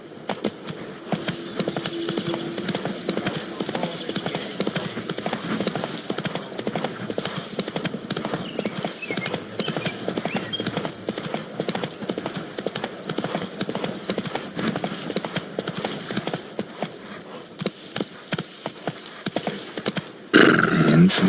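Galloping horse hooves in The Witcher 3 video game make a continuous rapid clip-clop with jangling tack for about twenty seconds, loud and steady against game ambience.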